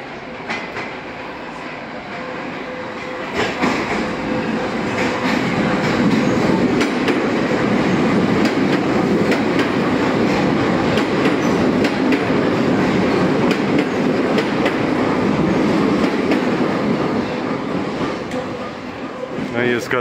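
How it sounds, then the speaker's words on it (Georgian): A train pulls into an old, run-down railway station in Tbilisi, rumbling louder as it nears, with steady clattering wheels and faint squeals over a constant roar, and people's voices faintly underneath. "აი, მატარებელიც მოდის."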